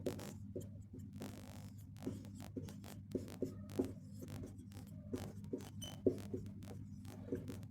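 Handwriting while working a class 12 determinants maths problem: soft, repeated scratchy pen strokes in short irregular bursts over a low constant hum, close and quiet, with no voices.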